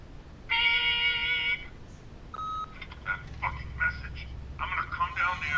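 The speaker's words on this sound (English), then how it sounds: "leave a message at the beep and we'll get back to you as soon as" An answering machine beep in the video game The Wolf Among Us: a steady tone of about a second, then a short second beep, followed by quiet garbled sounds and a faint voice.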